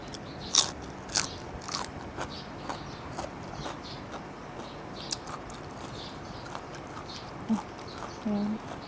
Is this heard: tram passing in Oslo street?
no